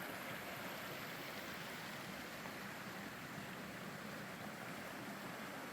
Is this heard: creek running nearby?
yes